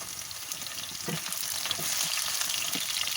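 Chopped onion and ginger fry in oil for vegetable chow mein, with a bright continuous sizzle and soft spatula stirs scraping through it at close range.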